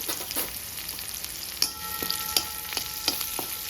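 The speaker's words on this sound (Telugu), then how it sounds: "ఉల్లిపాయ ముక్కలు వేగుతున్నప్పుడే" Onion pieces fry in a pan for a spinach chutney, giving a steady close sizzle broken by a few sharp clicks of stirring.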